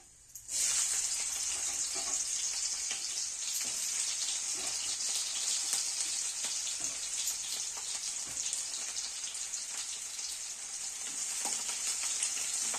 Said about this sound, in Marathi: तेल तापले बघा आता आपण पहिल्यांदा कांदा भाजून घ्यायचा